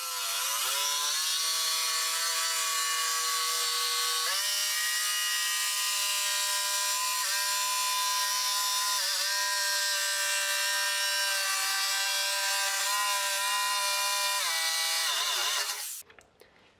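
A power saw cuts through a wood board for a workbench in one continuous, loud, high-pitched whine that holds steady for about sixteen seconds, then stops abruptly.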